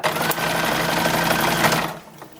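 A sewing machine runs in one steady, fast, buzzing burst, stitching binding onto the short sleeves of a 1910s–1920s-style toddler summer dress, then stops abruptly near the end.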